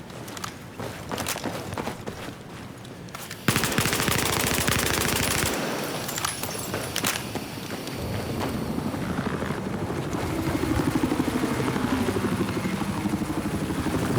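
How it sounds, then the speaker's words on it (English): Battlefield 4 match with a helicopter's rotor thrum mixed with bursts of machine-gun fire and shots, loud and busy, with no voices heard. "there's a helicopter in there"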